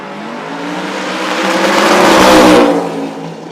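Chevrolet and Ford drag race cars launching at a no-prep drag strip at Toronto Motorsports Park: a loud, close engine roar that swells as they accelerate, peaks, then starts to fade as they pull away.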